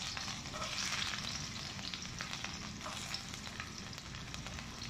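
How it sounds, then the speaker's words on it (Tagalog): Garlic sautéing in hot oil in a pan for tuna carbonara, a continuous close sizzle and crackle with faint stirring, no talk. "Igisa na natin yung ating bawang."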